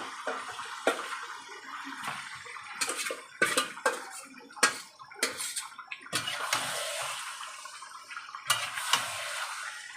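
Chicken pieces go into a pan of salted, browned onions for a simple chicken biryani, giving irregular clatters, scrapes and brief sizzling bursts that come and go at close range with no talk.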